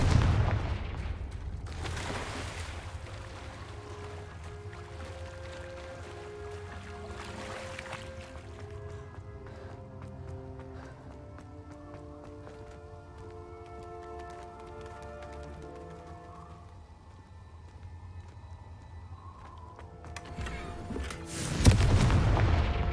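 A Confringo fire-blast spell goes off in a wizard video game, with a loud booming burst at the start and another near the end, and soft, sustained game music in between.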